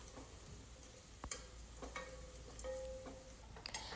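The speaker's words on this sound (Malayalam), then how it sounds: "അതിലേക്ക് അരിഞ്ഞു വെച്ച വെളുത്തുള്ളി ഇട്ട് ഒന്ന് മൂപ്പിച്ചെടുക്കാം" Chopped garlic sizzles softly in hot oil with cinnamon, cloves and pepper, a faint, steady frying hiss broken by a few light clicks of stirring.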